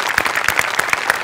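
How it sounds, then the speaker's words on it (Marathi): Audience applause for an art department skit at a stage event: dense, steady clapping from many hands, fairly loud and close, with no talk over it. "आर्ट डिपार्टमेंटसाठी एकदा जोरदार टाळ्या"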